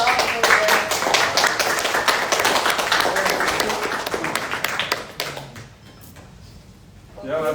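Classroom audience clapping for a teacher, a brisk burst of distinct hand claps that thins out and stops after about five seconds, leaving quiet room sound with faint talk.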